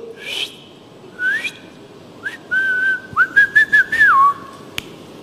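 A preacher whistles during a church sermon: a few short chirps, then a clear sustained tone and a run of quick rising and falling notes, alone against a quiet room.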